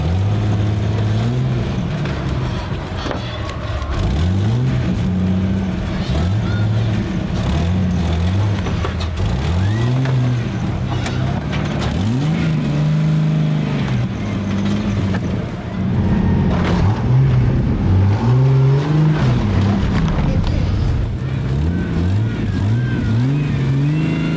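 A Jeep TJ engine with Banks torque tube headers and a MagnaFlow exhaust revs repeatedly, loud and close, its deep rumble swelling and falling in rhythmic bursts with no talk over it.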